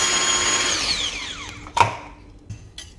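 A small electric mini garlic chopper whirs briefly, its motor whine falling in pitch as it spins down, followed by a few light clicks and knocks of the plastic unit being handled.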